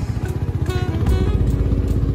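Motorcycle riding along a rough off-road mountain track, its engine a steady close, low rumble with clattering bumps throughout and no talk.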